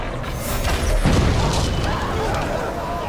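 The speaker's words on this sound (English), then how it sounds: "Let me shoot the baron" A shot fired at the baron in Shadow of War lands as a loud, close boom with a crashing burst, amid dense ongoing battle noise for about three seconds.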